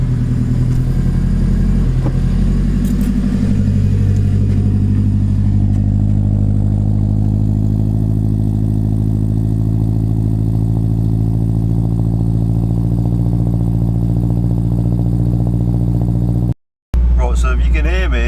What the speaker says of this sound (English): I'm going to give a cold start here. This is what she sounds like in the morning, being a turbo.